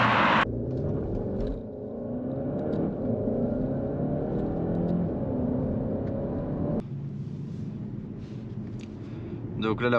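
A 2022 Skoda Octavia RS hybrid estate, 245 hp, drives in automatic hybrid mode with a low, steady engine and road hum. Someone talks over it throughout, and the sound gets louder near the end.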